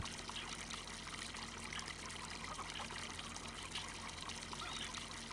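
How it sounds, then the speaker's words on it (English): Water streams steadily onto a garden in the farming game Farming Simulator 25, a constant soft trickling hiss with a faint low hum beneath, even and unbroken throughout. "we'll just top the water up in the garden as well"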